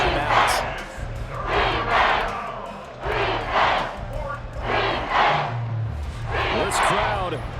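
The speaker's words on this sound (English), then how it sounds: "This crowd turning up the decibel level." A football stadium crowd roars in sustained waves on a third-and-long play, while a commentator talks over the din throughout.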